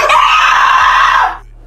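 A person lets out one loud, sustained scream at close range, holding for over a second before cutting off abruptly, with a low background hum underneath.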